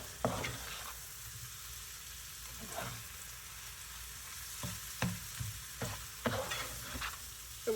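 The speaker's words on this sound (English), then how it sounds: "So as this butter is melting, I'm just going to get it moving around." Butter melting in a frying pan for fried matzo, a soft steady sizzle broken by repeated spatula scrapes and taps as it is pushed around.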